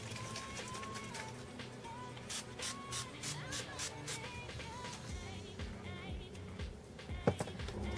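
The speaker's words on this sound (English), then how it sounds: "I'm just going to be applying some NYX Dewy Finish Setting Spray" A series of quick, sharp hissing sprays of NYX Dewy Finish setting spray misted onto a face bursts out in rapid succession, about eight short pumps close to the microphone, over a faint background murmur.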